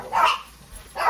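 Dogs indoors bark loudly at close range during a rainy day. Two sharp barks come roughly a second apart with a brief quieter gap between them, and no talk is heard.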